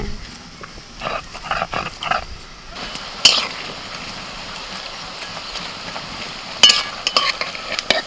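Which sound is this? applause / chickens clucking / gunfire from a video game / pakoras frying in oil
pakoras frying in oil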